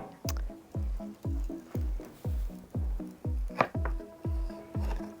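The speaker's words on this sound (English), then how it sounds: "look at our sauce is even bubbling up nicely" Sauce mixed with fruit juices bubbles on an outdoor grill, making close, evenly spaced plopping bursts about twice per second.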